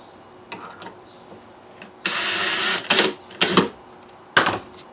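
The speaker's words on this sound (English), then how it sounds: "we're going to go ahead and screw this in" A power screwdriver drives screws to fix an edge piece onto a plastic box storage cabinet, with short whirring bursts, one longer run, and a few clicks and taps between them, close and fairly loud.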